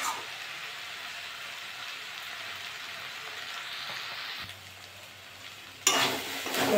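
Data chochchori with small chuno fish sizzles slowly in a pan, a steady close frying hiss that drops briefly before a louder burst of sizzle near the end.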